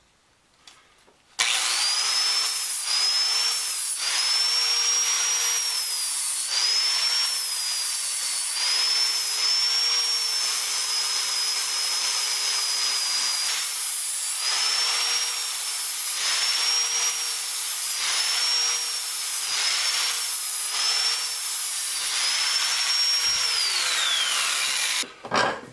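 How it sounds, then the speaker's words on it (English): An angle grinder with a new 120 grit flap disc grinds saw-blade steel for a kitchen knife, a loud, continuous high whine that wavers in pitch with pressure for over twenty seconds, then spins down at the end. "And I'm using a brand new 120 grit flapper disc, so I'll see how that works."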